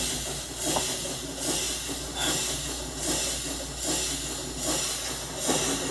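A train runs on rails in the Minecraft video game, a steady hissing rumble that swells in regular pulses as it rolls along, with no voices present.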